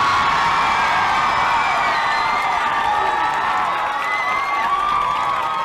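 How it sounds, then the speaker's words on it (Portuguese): At a geek convention with cosplay and games, an audience cheers, whoops and claps for a guest taking the stage, a continuous loud roar of shouting voices with applause underneath. "eu quero que vocês recebam com uma salva de palmas e muito barulho para Guilherme Briggs"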